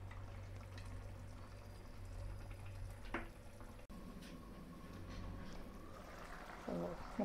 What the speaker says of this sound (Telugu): తగినంత చింతపండు రసం వేసుకుందాము.